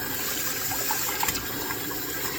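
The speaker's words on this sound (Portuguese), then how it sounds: "com a água bem quente, eu vou abrir essa pia" Hot water runs from an opened kitchen sink tap as a steady broadband rush, with a few small clicks and clunks in the middle.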